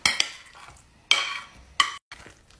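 Brownie batter with banana is stirred in a bowl, with several bright scraping strokes of a utensil against the bowl separated by quieter pauses.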